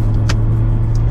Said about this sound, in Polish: Jak to się kręci na obroty, pięknie. To się wkręca na obroty.